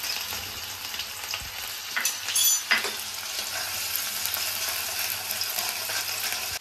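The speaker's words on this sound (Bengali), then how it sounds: "দিয়ে দিচ্ছি অর্ধেকটা পেঁয়াজ দিয়ে দিচ্ছি" Chopped onion hits hot oil in a pan and fries with a steady, dense sizzle, close and continuous, with a few scraping stirs near the start.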